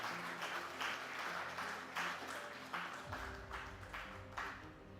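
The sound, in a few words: audience applause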